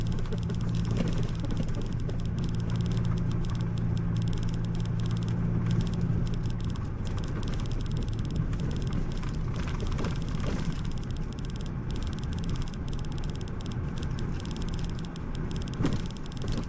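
A 2021 Subaru Crosstrek Premium in X-Mode creeps over a rocky field in the Black Hills, with a low, steady engine hum and faint crackling, pattering tire noise over stones, quiet and continuous.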